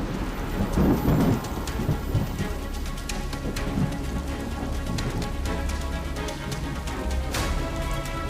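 Heavy rain pours steadily on surfaces during a pre-monsoon storm, with several sharp thunder cracks and low rumbles rolling through, loud and close, with no voices.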